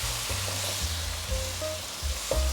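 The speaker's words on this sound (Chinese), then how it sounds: "快速翻炒" Bitter melon and vegan ribs are quickly stir-fried with sauce in a wok, giving a soft sizzle with rhythmic spatula scrapes and knocks against the metal, close and fairly quiet.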